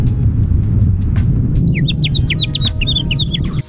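After a stretch of low rumbling, a person whistles a quick series of sharp, high chirps imitating a hawk's call.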